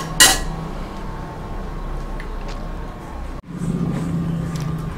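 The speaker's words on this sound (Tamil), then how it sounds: "இந்த மாதிரி கொதிக்க கொதிக்க கிண்டி விட்டுக்கிட்டே இருங்க" A utensil clinks against a pan, then a steady bubbling hiss continues as wheat rava kesari is stirred while boiling, with a brief dip partway through.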